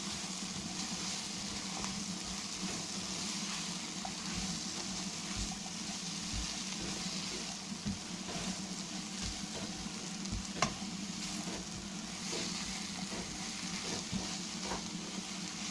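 Mushrooms sizzle and fry steadily in a pan for mushroom masala, with soft scraping and stirring clatter over a constant hiss, close up and fairly quiet, no talking.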